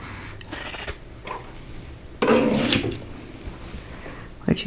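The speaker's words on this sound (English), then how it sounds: "I'm going to take out the pins and I'm going to cut it apart on the drawn line." Scissors cut apart pinned quilting fabric along a drawn line to make two half-square triangles for a vintage mosaic quilt block, giving two close, crisp slicing passes separated by a quiet pause.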